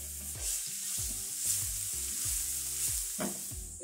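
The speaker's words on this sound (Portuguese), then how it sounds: "Vamos deixar esse alho refogar bem." Garlic sautés in a frying pan for a tilapia moqueca, a soft continuous sizzle with faint crackle, heard close and fairly quiet, alone without any talking.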